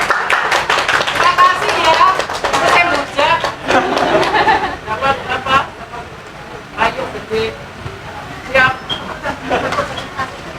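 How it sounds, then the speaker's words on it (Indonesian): A seminar audience claps together, a fairly close burst of applause mixed with murmured chatter that thins out toward the end. "Bisa beri tepuk tangan semuanya."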